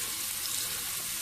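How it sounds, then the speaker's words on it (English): Onions sizzling in an oiled pan, a dense, even hiss heard close up and unbroken through the short moment. "I'm going to add my onions"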